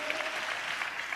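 A church congregation clapping along, a brief, fairly faint patter of many hands with a loose rhythmic pulse.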